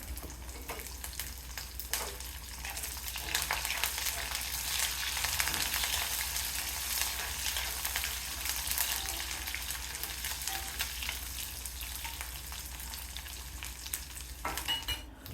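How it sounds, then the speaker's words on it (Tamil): A cup of garlic sautés in hot oil for a Tamil pepper and garlic kulambu, with a steady, dense crackling sizzle throughout and a few scrapes of stirring, close-up and continuous with no voices. "1 கப் அளவுக்கு பூண்டு சேர்த்து வதக்கணும்"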